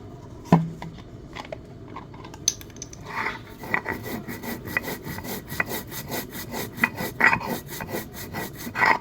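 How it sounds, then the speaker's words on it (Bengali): Radhuni spice being ground on a grinding stone, a steady rhythmic scraping and rubbing of stone on stone repeated in quick strokes, close and fairly loud. "এবার আমি রাঁধুনিটা বেটে নেবো"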